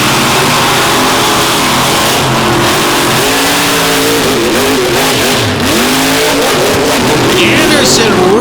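Vintage race cars roaring down a front stretch, engines loud and continuous with rising and falling revs as they pass, while an announcer talks over the racing.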